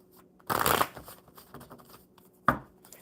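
Close-up riffle shuffle of playing cards: a long ruffling burst, a brief quiet pause, then a second quick snap of cards.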